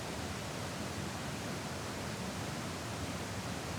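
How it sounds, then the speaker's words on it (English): A giant waterfall in McDowell Creek Park roars about 25 feet away as a dense, steady, broadband rush that stays even throughout, with no voices over it. "there is a giant waterfall about, I'd say 25 feet behind me"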